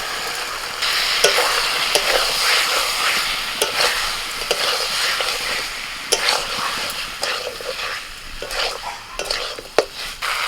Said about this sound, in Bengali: মশলাটা ভালো করে কষিয়ে নিয়েছি তেল ছাড়া ছাড়া হয়ে গেছে এবার ভাজা ব্রোকলি আর আলু দিয়ে দিচ্ছি